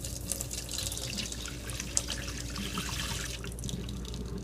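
Water pours steadily out of a bottle or container after passing through a Katadyn Vario filter, a continuous close splashing rush outdoors with no voices.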